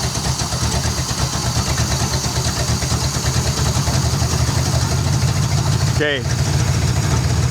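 A Scout engine fitted with a Harley carburetor idles loudly and steadily close by, with a brief voice near the end over the constant rumble.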